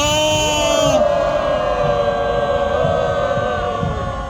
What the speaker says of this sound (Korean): 와 함성을 3초간 외쳐주시기 바랍니다